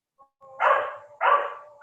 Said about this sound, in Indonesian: Itu siapa tuh yang gonggong tuh?